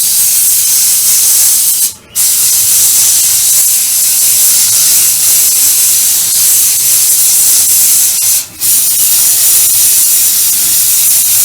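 Airbrush spraying paint on a StuG III Ausf G scale model, a steady, loud, close hiss of air and paint that cuts out twice for a moment.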